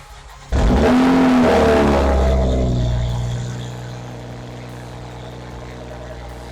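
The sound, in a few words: sports car catback exhaust, cold start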